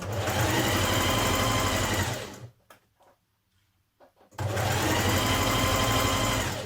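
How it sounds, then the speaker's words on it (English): A sewing machine stitches a seam on a jersey dress, a loud steady whirring run that stops for about two seconds, then starts again at the same pace. "Now begin stitching your seam and take your pins out as you go."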